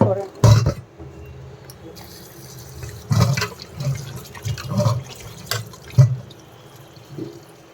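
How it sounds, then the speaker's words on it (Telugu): Raw chicken is washed in water, with irregular splashes and sloshing bursts that are moderately close, separated by quieter pauses. A voice is faintly present in places. "ఈ చికెన్ ఇప్పుడు వాష్ చేస్తాను."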